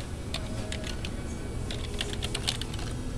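Rapid typing on a computer keyboard during a typing contest, a steady close flurry of light key clicks over a faint background hum, with no talking.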